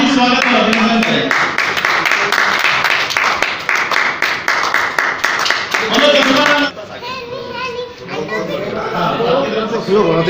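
Members of the Odh Community Council of India in Udaipur clap to welcome a guest, a dense patter of hands that runs over lively chatter and speech, easing as the room settles.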